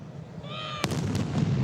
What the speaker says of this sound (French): des coups de canon retentissent dans tout le Royaume-Uni